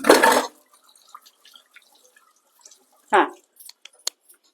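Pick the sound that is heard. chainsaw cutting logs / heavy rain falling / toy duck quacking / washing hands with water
washing hands with water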